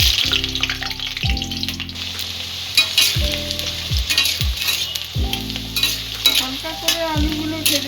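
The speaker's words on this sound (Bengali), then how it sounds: "প্রথমে আলুগুলো আমি ভেজে নেব।" Potatoes fry in hot mustard oil in a wok, giving a steady close sizzle with repeated stirring scrapes and light clinks throughout.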